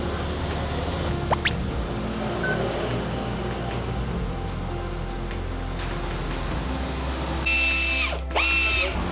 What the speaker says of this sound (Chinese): 上一下扭力，确保螺丝都是锁紧的，锁到一个确定的紧度。